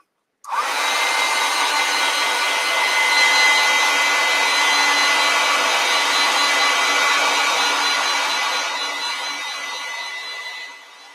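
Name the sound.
hair dryer drying a watercolor painting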